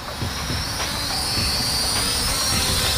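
A Protocol Terracopter Evo, a car and drone hybrid, hovers after an auto takeoff with a steady, high whirring rotor whine. The sound is close and constant throughout with no talking.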